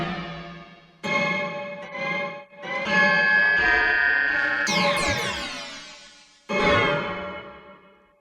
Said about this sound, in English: the next plugin is Valhalla Frequency Echo